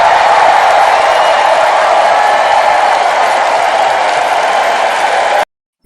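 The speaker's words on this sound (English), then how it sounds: "Applause." Recorded applause and crowd cheering played back, a loud, even wash of clapping that runs steadily for about five seconds and then cuts off abruptly into silence.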